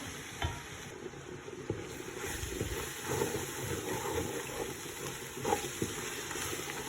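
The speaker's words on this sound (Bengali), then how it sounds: "মশলাটা একটু ভাজা হোক।" Spices with green chili frying and being stirred in a pan, a soft, low-level sizzle with occasional scraping clinks, steady throughout.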